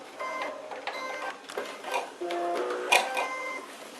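Sewing machine stitching a backstitch on a fabric pouch, short bursts of quick mechanical needle clatter that stop and restart, close and fairly quiet.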